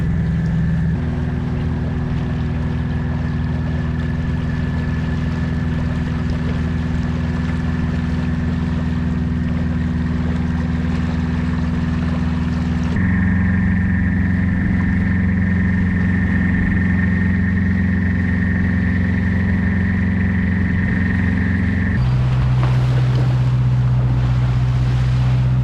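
Commercial fishing boat engine droning steadily as the vessel heads back out to sea off Haida Gwaii, a loud continuous rumble that shifts pitch twice, with wind and water noise and no talk.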